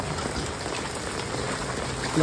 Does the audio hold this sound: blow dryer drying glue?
no